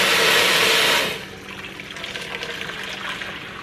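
Eight cups of water pour steadily into a cooking pot, a loud rushing splash for about a second that then drops to a quieter trickle and settling slosh, with no voices.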